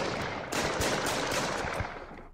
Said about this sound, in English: Another shooting.